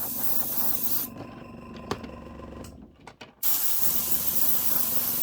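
An airbrush sprays paint onto a model Standard 4 locomotive tender, a close, steady hiss that cuts out for about two seconds with small clicks before resuming at full strength.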